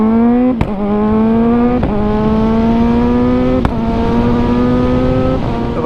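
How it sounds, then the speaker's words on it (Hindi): A Kawasaki Ninja 1000SX fitted with an Arrow full-system exhaust holds a loud, close, steady rev, broken by a few sharp backfire cracks spaced about a second apart. "क्रेजी बैक फायर्स है।"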